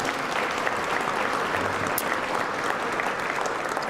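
Steady applause from a banquet audience fills the room, a dense, even clatter of many hands clapping at full strength from start to finish without a pause.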